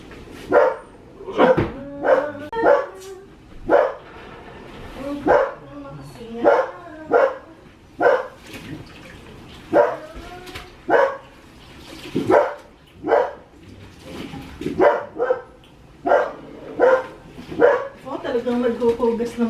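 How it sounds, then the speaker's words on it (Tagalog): A dog barks again and again in a steady series of sharp barks for the whole stretch, with a person talking at times. "Yung aso yung kapitbahay."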